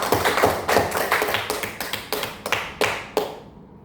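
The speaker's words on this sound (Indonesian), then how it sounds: "Silakan kita beri aplaus untuk kelompok 2." Classroom applause for a presenting group during a microteaching session: about a dozen quick, sharp claps from a small group, fairly close, tapering off before stopping abruptly.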